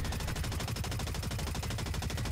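Rapid automatic fire from the M4X rifle in the shooter game Blacklight Retribution, one sustained burst of about ten crisp shots per second, loud and upfront with no talk.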